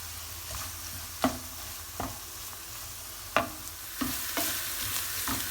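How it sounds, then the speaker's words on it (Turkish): Garlic is stirred into a frying pan with a loud continuous sizzle close by, broken by occasional sharp knocks and scrapes of the spoon against the pan, with no voices. "Sarımsağımı da ilave ettim. Şöyle. Güzelce bunları harmanlıyoruz."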